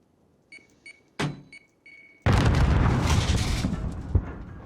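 A grenade blast in a competitive first-person shooter match: a few faint clicks and a sharp crack, then a sudden loud boom that rolls into a long, heavy rumble.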